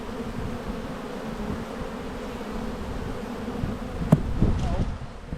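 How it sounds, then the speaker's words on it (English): Honeybees buzz in a thick close drone as a beekeeper shakes them off a hive frame, with a sharp knock and rustle near the end. "Going to shake these bees off so it's easier for me to get this frame in."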